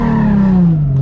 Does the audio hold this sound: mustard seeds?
no